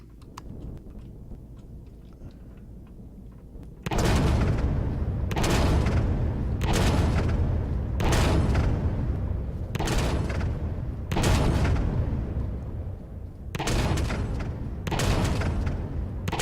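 Gunfire in Empyrion: Galactic Survival, with loud rapid bursts of shots arriving in repeated volleys after a quiet opening, each burst sharp and booming over a low background hum.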